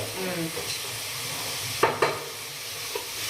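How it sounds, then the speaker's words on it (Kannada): Green chillies and onions sizzle in a hot pan with a steady frying hiss, broken by a couple of sharp stirring clinks of a utensil against the pan. "ಆಮೇಲೆ ಹಸಿಮೆಣಸಿನ್ಕಾಯಿನೂ ಈರುಳ್ಳಿ ಹಾಕೊಂಡು ಅದನ್ನ ಫ್ರೈ ಮಾಡ್ತಾ ಇದ್ದೀನಿ."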